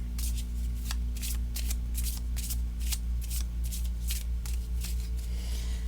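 Repeated crisp riffles of playing cards being shuffled, a steady run of quick fluttering bursts over a constant low hum.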